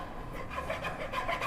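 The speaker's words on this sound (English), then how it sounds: "So use the half round side of the rasp, not the flat side, your half round side." A wood rasp files the inside of a tapered mortise for a spindle stool, giving soft, steady rasping strokes in a gentle back-and-forth rhythm, close and fairly quiet with no talking.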